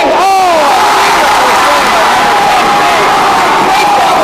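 Loud crowd cheering and screaming at a girls' volleyball spirit night game, a sustained roar with whoops and some clapping, close and continuous.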